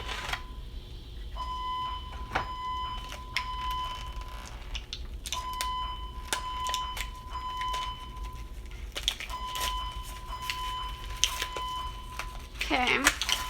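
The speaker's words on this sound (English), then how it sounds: "Guys, I'm really sorry about that beeping." An electronic tone beeps in a room at intervals, sustained steady pitches that repeat in three separate bursts over low background noise, fairly faint, with occasional clicks.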